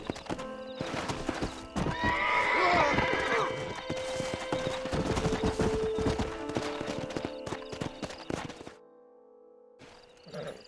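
In the video game Red Dead Redemption, several horses gallop with dense clattering hooves and loud whinnies, mixed with shouting voices, before the noise cuts off and a lone neigh follows.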